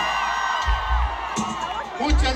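Concert crowd at a show in Watsonville, California, cheering, whooping and shouting in bursts beneath a loud amplified voice addressing them.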